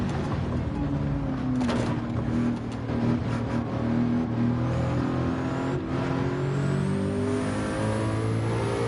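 A race car engine in Gran Turismo drones loud and steady under nitrous, its pitch climbing slowly as it accelerates down a long straight, with a rising whine toward the end.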